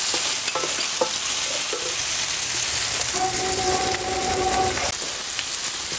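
Tomato sautéing in a pan for a stuffed eggplant masala, a loud continuous sizzle with scraping stirring strokes near the start and a brief tonal whine midway, no talk.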